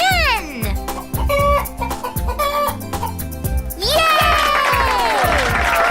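A cartoon hen clucks in a children's farm nursery rhyme, with bright clucks over a bouncy musical backing and cheerful voices, loud and close throughout.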